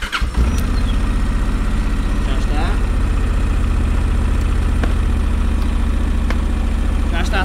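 Honda NC 750X motorcycle engine idling steadily after a battery jump start, a loud, continuous close-up rumble that kicks in within the first half second and runs unbroken.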